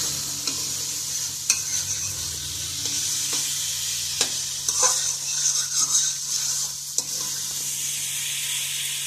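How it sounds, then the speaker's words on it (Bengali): Spicy curry sautés in a pan with a steady, even sizzle throughout, broken by occasional soft knocks and scrapes of stirring, close and continuous. "আচ্ছা মা, এটাকে কষাতে থাকুক"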